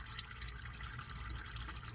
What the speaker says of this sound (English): wait for it to finish dripping